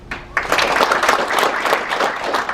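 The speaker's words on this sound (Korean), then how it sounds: "더 큰 격려의 박수를 보내주십시오" Applause from an audience breaks out after a moment and continues steadily, a dense wash of many hands clapping.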